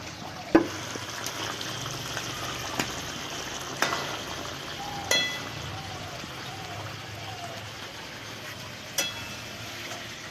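Fish pieces go into a pan of jackfruit curry, giving a bubbling, simmering wet sizzle with a few sharp clinks and thumps of utensils against the pan.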